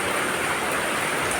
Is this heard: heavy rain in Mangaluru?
yes